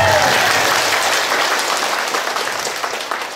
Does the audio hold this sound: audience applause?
yes